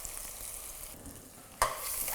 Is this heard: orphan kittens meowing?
no